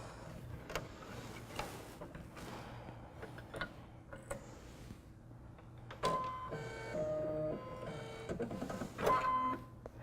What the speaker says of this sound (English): I can just press the button that lowers the needle twice, and that will pull up the bobbin thread